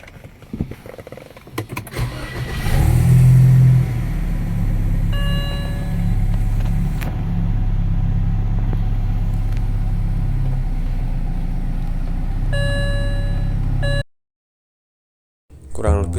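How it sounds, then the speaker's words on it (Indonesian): After some handling noises, a 2005 BMW E90 320i engine starts and settles into a steady close idle hum, running for several seconds before cutting off abruptly. "sekarang mari kita dengarkan suara mesin dari BMW E90 320i ini"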